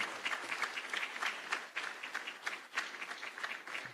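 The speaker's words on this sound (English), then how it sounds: "Why don't we welcome him with a warm clap?" An audience at an African sub-sovereign governments investment conference in Kisumu applauding to welcome President Ruto, steady dense clapping from a large room sustained throughout.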